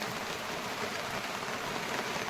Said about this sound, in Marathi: वाढला आता पाऊस